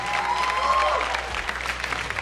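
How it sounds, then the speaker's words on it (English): A studio audience applauds a guest during an interview, a short burst of moderate clapping with a voice briefly heard over it. "can we have a big round of applause?"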